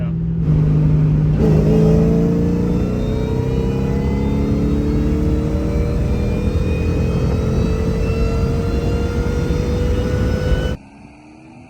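A supercharged Saleen engine on a dyno, rising in one long loud pull with the whine climbing steadily over several seconds, then cutting off abruptly to a low background.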